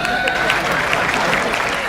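Studio audience at a televised family reality competition clapping steadily, a dense, even patter of applause with voices faintly mixed in.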